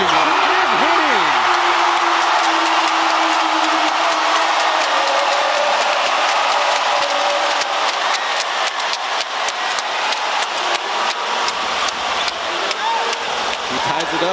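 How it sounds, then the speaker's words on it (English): Basketball arena crowd cheering during a Taoyuan Pauian Pilots pre-season game, a steady loud roar sustained throughout with rhythmic clapping building toward the end, under an announcer's commentary. "Crowd cheering on Oscar as you see Meeks switched on to him."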